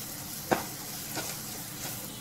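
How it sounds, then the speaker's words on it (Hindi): Gram flour roasting with spices in separated oil in a pan: a faint, steady low sizzle with one sharp stir or scrape near the start and a couple of softer stirring strokes after, no talking. "अब हम इसमें एक छोटा चम्मच बेसन डालेंगे और इसको भी इसी के साथ भून लेंगे"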